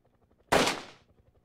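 One sharp, loud AK-47 shot from the video game Hand Simulator bursts out and fades over about half a second, standing alone above a faint rhythmic background pulse.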